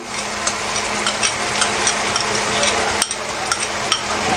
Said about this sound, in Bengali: এটাকে একটু ভালোভাবে নেড়ে চেড়ে দিতে হবে যাতে সব জায়গাতে সসটা লেগে যায়।